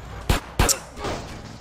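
Gunfire in GTA San Andreas Definitive Edition: two loud, sharp shots in quick succession, then a softer distant echo and a lingering rumble, with no talking.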